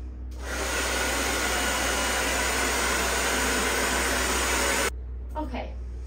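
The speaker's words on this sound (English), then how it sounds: "I need a dryer." A hair dryer blows with a loud, steady whoosh and hum for about five seconds, then cuts off abruptly, leaving faint rustling behind.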